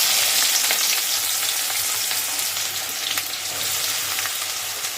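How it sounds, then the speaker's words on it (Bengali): Chopped onion fries in hot mustard oil with a loud, dense, continuous sizzle and occasional crackles, no voices. "এবার এর মধ্যে পেঁয়াজটা ছেড়ে দেবো"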